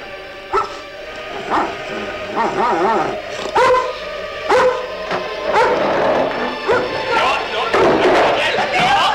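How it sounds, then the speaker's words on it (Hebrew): A black dog barks and yips repeatedly in a radio play, sharp loud barks in uneven bursts among thumps and spoken dialogue. "כלב מסוכן מאוד, זה ירמיהו"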